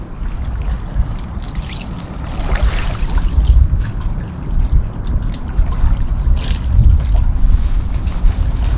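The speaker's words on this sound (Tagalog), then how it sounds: "Ang sarap ng pakinggan ng tunog ng tubig" Loud, close water flows and trickles continuously, splashing and gurgling with small surges throughout.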